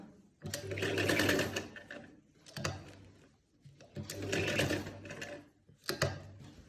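Trousers have a pocket stitched on by a sewing machine, running in two longer close whirring bursts, each followed by a shorter one, with brief pauses between.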